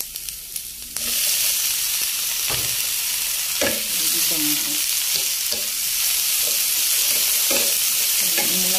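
Tomatoes sautéing in a frying pan for a moringa dish: a steady sizzling hiss starts abruptly and continues, with intermittent scraping and stirring knocks from a utensil in the pan, and a brief voice at the start.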